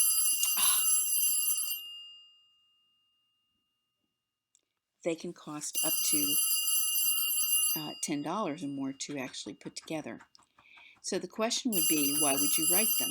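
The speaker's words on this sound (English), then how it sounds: "You can hear my phone is ringing in the background." A shrill electronic ring sounds, stops, then keeps trilling in the background while someone talks over it.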